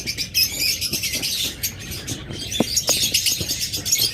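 A pair of opaline Fischer's lovebirds calls in a steady stream of shrill, overlapping chirps and squawks, close and busy, with a few sharper calls standing out near the end.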